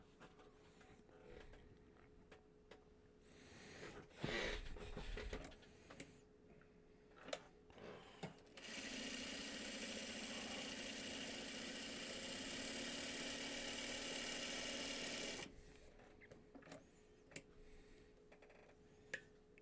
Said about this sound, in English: sewing on both sides of that diagonal line